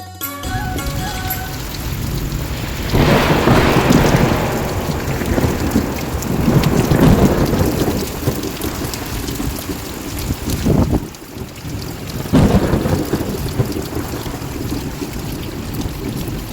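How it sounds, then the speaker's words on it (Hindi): A heavy nighttime thunderstorm: steady loud rain pours with gusting wind, and rolling thunder swells in several long waves, including one sharp crack near the middle, with no voices. "रात में 12 बजे अचानक से खूब तेज आंधी बारिश आई थी"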